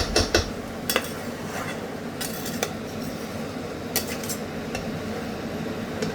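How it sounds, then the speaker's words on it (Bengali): Malabar spinach curry with eggplant stirred in a pan, a steady close clatter and scrape of a spoon against metal with a few sharper knocks over constant cooking noise. "বেগুনগুলো দিয়ে আমি তরকারিটা ভালো করে মিশিয়ে নেব"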